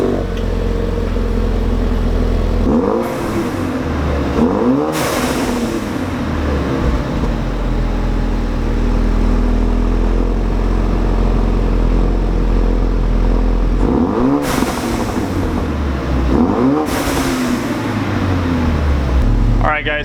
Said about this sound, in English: so that is basically a cold start right there